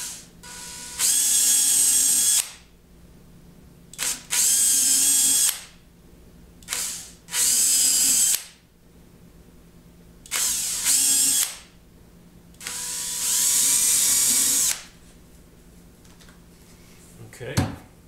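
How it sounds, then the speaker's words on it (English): Several bursts of a power drill whirring up and spinning for a second or two each while drilling holes in PVC, separated by quiet pauses, close and loud. "I'm just going to drill a few holes in the corners"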